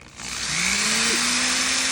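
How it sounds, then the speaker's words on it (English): A power drill fitted with a very small bit spins up and bores into a plaque, a loud steady whir that rises in pitch and holds, close and continuous. "It's got a very small drill bit on there. And I'm just going to drill a hole."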